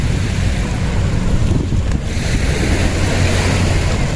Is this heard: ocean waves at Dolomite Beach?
yes